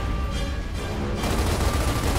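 Turret gunfire in the Gears of War shooter game during a Kryll attack, a dense, continuous roar of rapid shots that grows heavier partway through, with no voices over it.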